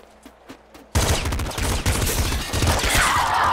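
Pop rifle gunfire from the Nuclear Throne video game, a few faint early shots and then a loud, dense burst of rapid popping blasts that carries on to the end.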